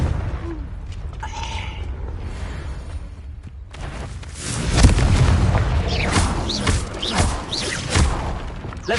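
Booming spell explosions burst in a fantasy action game, a quiet creaking stretch giving way to a loud, dense blast near the midpoint with more rumbling impacts and crackling debris following.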